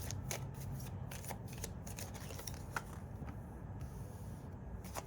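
A pile of reading cards is shuffled close up, producing a continuous papery riffling and flicking with small sharp snaps, steady and unaccompanied by talk.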